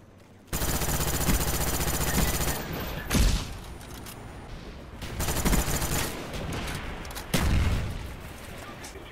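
Sustained automatic gunfire from Call of Duty Black Ops on PS3 roars almost without pause, with several heavier bursts swelling louder over the steady rattle of weapons.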